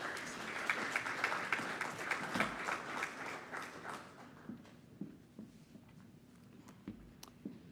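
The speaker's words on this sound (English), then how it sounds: "Can everyone give Lily another big round of applause" Crowd applause for a performer named Lily at a community Apology Breakfast, a full round of clapping that gradually thins out to scattered individual claps and fades away.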